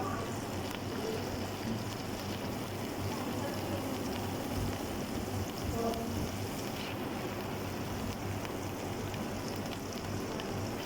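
Two tablespoons of garlic ginger paste sautéing in half a cup of oil hiss and sizzle in a steady, even wash of crackling noise throughout, without pauses or talk.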